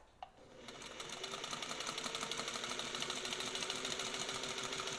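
A restored Singer 301A sewing machine runs steadily after a brief start, its fast even stitching rhythm close and continuous, a soft mechanical purr with regular ticking pulses and no voices.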